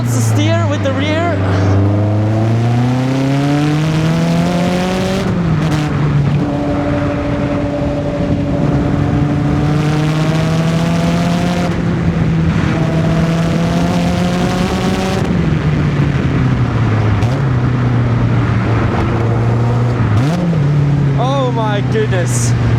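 Engine of a raw, lightweight sports car, likely a Lotus, revving hard while driving on gravel: a loud, growling drone that rises and falls through the gears for over twenty seconds, with people talking over it.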